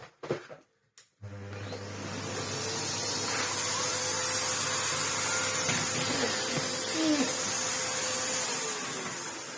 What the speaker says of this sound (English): we have the mini turbo tool, which hasn't seen a great deal of use. Let's check if this spins.